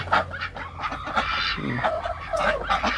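Busy calls from several ducks at once, a steady overlapping chorus of nasal quacks and clucks close by, with no talking.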